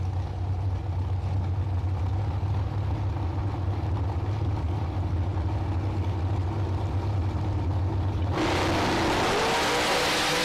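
A supercharged Folk dragster engine at a drag strip, blower motor rumbling loud and steady at idle, then a sudden roaring surge of full-throttle noise near the end.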